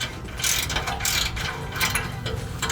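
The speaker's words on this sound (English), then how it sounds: "Use this ratchet to take the rest of that off." A hand ratchet loosens exhaust bolts on a 1999-2004 Mustang GT fitted with an MBRP cat-back exhaust, making quick bursts of close metallic clicking in an uneven rhythm.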